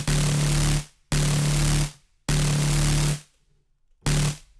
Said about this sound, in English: at this point we've got our kind of fully square wave noised bass, which kind of really cuts through the mix